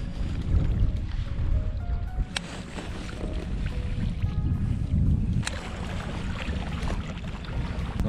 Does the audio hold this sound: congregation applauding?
no